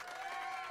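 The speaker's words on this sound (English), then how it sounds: "Thank you for the applause." A brief burst of applause and cheering as a sound effect, a dense wash of clapping and crowd noise lasting under a second.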